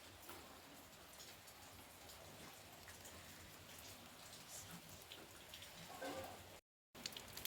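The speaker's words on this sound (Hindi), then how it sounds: "अभी हो रही है बारिश" Steady rain pattering on surfaces in an Indian village, a dense, even hiss of drops that continues throughout with a brief drop-out near the end.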